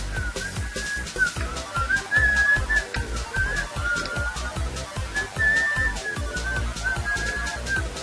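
A person whistles a wavering tune close by, over a rhythmic thumping background beat.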